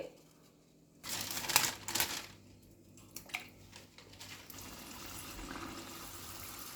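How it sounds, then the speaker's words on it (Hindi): Arisha pitha dough slid into hot oil in a home kitchen, setting off a loud burst of crackling sizzle that settles into a steady, softer frying hiss. "देखिए अब इसको हम तेल में डाल देंगे।"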